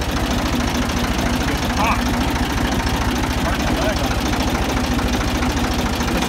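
A Ford 2000 tractor engine idles steadily with a rapid knocking beat through its muffler, running continuously and loud from start to finish.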